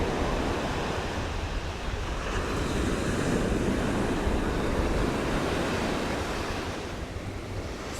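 Ocean waves break on the beach at Ocean City, Maryland, making a continuous broad surf roar that swells and eases slightly, mixed with wind buffeting the microphone.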